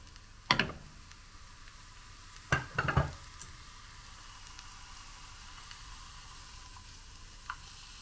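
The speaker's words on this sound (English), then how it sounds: "And now there's enough butter left over to fry the mushrooms." Mushrooms frying gently in butter in an aluminium Soviet mess kit give a faint steady sizzle, broken by a few sharp metallic scrapes and clinks of a utensil against the pan.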